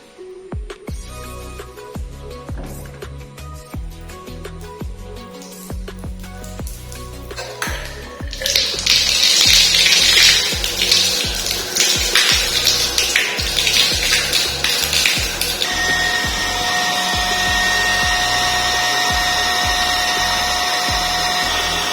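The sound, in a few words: automatic electric water pump running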